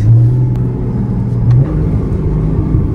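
A powerful Porsche Cayman S 981 engine growls and revs up under full throttle with wheelspin, a deep steady roar that rises in pitch partway through.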